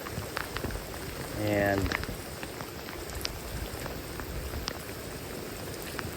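Heavy rain falls outside a barn, a dense steady patter of drops on surfaces throughout, with a brief low rumble and a faint voice partway through.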